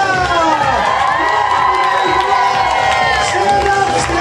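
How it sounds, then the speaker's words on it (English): Guests at a bat mitzvah celebration giving a standing ovation, a loud, dense, continuous wash of cheering, whooping and excited shouting from a big crowd, including children. "Stand up and cheer, Tara!"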